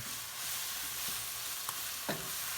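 Ground meat browns in a frying pan for a home-cooked Ants Climbing a Tree, giving a steady soft sizzle with a few brief scrapes of stirring, close and moderately quiet, with no talking.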